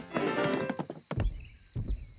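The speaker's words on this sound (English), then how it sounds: "I can hear footsteps." Footsteps land in a few heavy, uneven thunks with a hollow clip-clop quality, close and loud, with short gaps of quiet between them in a cartoon kingdom setting.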